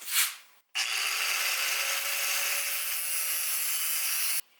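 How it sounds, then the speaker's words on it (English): A cheap Harbor Freight angle grinder cutting metal for a sculpture makes a harsh, loud, steady shriek with a faint whine. It cuts in abruptly after a short scrape, runs evenly for almost four seconds, then stops dead. "New grinder, by the way, the cheap one from Harbor Freight, so let's see how good it is."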